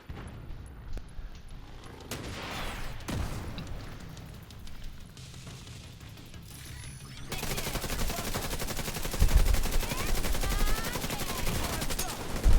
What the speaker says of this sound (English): You better be shooting at them.